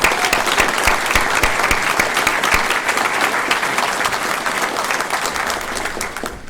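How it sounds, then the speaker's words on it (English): A room full of people at a meeting claps in a steady, loud round of applause that lasts throughout and tapers slightly at the end. "I would ask that we also give a round of applause."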